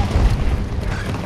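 A grenade blast in Battlefield 2042 during a Breakthrough match, heard as a heavy low rumbling boom that fills the whole short moment with no talk over it.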